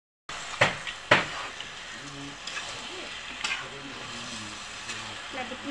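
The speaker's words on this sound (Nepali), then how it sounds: "अझै यसलाई भुट्नुपर्छ" Meat and spices fry in a pan with a steady sizzle, punctuated by a couple of sharp clatters near the start and a voice speaking quietly underneath.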